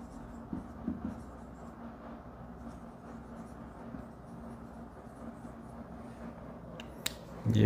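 Coloured pen writing on paper during a budgeting lesson, with faint, steady scratchy strokes close by against quiet room noise.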